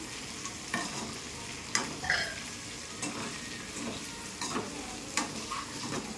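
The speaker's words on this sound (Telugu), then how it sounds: "సిమ్లో పెడదాం ఎందుకంటే మసాలా వేగింది కదా" Chicken and masala frying in a pan, giving a steady close-up sizzle with intermittent scraping and clinking as a spoon stirs the mixture, no voices.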